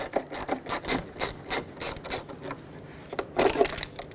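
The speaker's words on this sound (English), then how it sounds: "Use a Phillips head screwdriver and remove the screw that holds the mirror in the middle." Phillips head screwdriver backing out the centre screw of a Trail Ridge tow mirror on a 2011-2016 Ford F-350, heard as close, repeated ratchet-like clicking and scraping bursts in an uneven rhythm with no talk.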